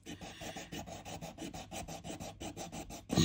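A nail file rasps back and forth over a small cast resin piece in quick, even strokes, about a dozen close scraping passes with a slightly louder rub at the end; no voices.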